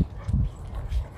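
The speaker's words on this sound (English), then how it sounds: "Look at that dog." A dog outdoors makes a few short, low, muffled vocal sounds in quick succession, fairly close, with no one talking over them.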